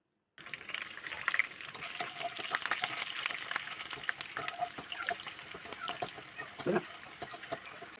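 Split green chilies and curry leaves fry in hot oil for a crispy cauliflower dish, giving a close, continuous sizzle and bubbling crackle that swells briefly near the end.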